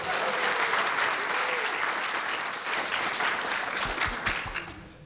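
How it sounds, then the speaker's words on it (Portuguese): Audience applauding a creative team member at a live behind-the-scenes panel, dense sustained clapping that stays loud throughout and tapers slightly at the end, with no talk over it. "Uma salva de palmas para o Rafa também."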